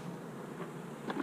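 Honey bees buzzing in an open hive, a steady close drone filling the short moment with a couple of brief louder buzzes near the end, no voices.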